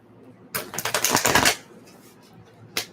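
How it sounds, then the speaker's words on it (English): Tarot cards are shuffled in one quick riffle of rapid, crisp flutters lasting about a second, close and clear, with a single soft tap of the deck afterward. "And let's do one more shuffle."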